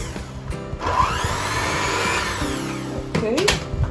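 An electric mixer whirring through oatmeal raisin cookie dough, a steady close motor drone that starts up and runs continuously, then bumps and shifts near the end.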